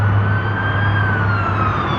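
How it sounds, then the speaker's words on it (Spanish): A siren wails steadily from an American fire truck on a street, loud and continuous with a slowly falling tone, alone with no talk over it. "Un camión de bomberos de Estados americanos"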